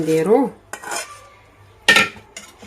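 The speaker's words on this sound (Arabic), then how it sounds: "غادي نخلطو الدجاج مع هاد لاصوص مزيان" A spoon scrapes and clinks against a bowl while cooled chicken is mixed into cheese sauce for a tortilla filling, a few short metallic strokes spaced across a quiet background.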